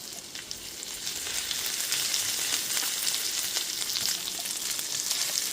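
Chopped onion hits hot ginger paste in a pan, setting off a steady, bright sizzle that builds and holds, close and fairly loud, with occasional stirring clicks and no talking.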